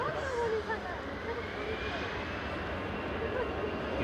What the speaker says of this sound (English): EasyJet rolling to Dalaman.